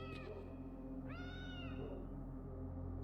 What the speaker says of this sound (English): Is that a cat? Was something meowing?